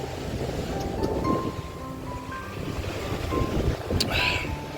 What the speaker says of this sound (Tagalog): Sa lakas ng hangin sa labas.